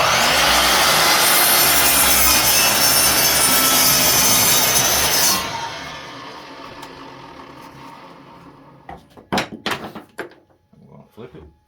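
A power saw blade cuts through wood for a windmill planter, a loud rough grinding for about five seconds. It fades out, and scattered knocks and handling sounds follow.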